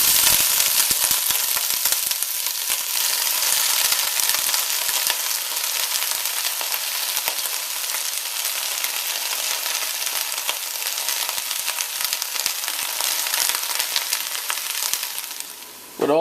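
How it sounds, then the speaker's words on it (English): Wet diced pak choi dropped into hot oil in a pot, a loud, dense sizzle that crackles hard at first and then holds a steady hiss, with a few clinks near the end. "going to start adding the diced up Pak Choi or Pak Choi that we chopped up earlier. Remember, it's wet, hot oil."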